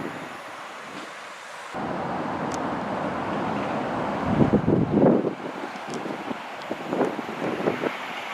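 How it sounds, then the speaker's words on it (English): Strong wind buffeting a microphone on the platform at Longniddry station, a ScotRail stop on the East Coast Main Line, a loud continuous rush with sharp gusty bursts toward the end. "It is honestly windy here"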